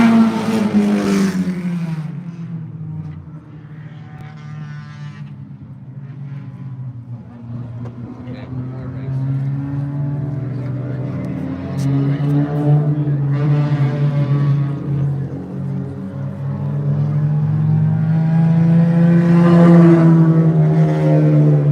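Stock cars racing on a short oval at Bud's Speedway in Cape Breton, Nova Scotia, engines droning and swelling continuously as a Honda Civic rounds the final turns to the checkered flag, with an announcer talking over the racing throughout.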